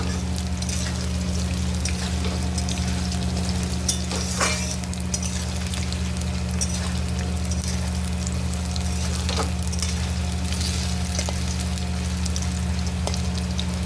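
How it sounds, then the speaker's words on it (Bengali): Potato pieces fry in oil in a pan, giving a steady, close sizzle with occasional clinks and scrapes of a spatula stirring, over a constant low electrical hum and with no voices. "আলুগুলোকে লাল লাল করে ভাজতে হবে।"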